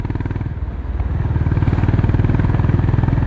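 A Honda CB350RS motorcycle being ridden, its engine and exhaust giving a loud, steady, close-up thumping rumble that rises slightly and holds a rapid even pulse throughout.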